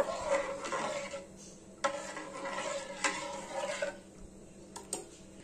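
Quiet stirring of sugar into milk in a metal pot, a spoon scraping and clinking against the metal in slow, uneven strokes, with a soft background hum.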